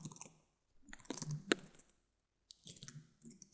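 Keys on a computer keyboard are tapped in short, quiet clusters of clicks, close and sparse, with a gap of silence between bursts and one sharper keystroke standing out.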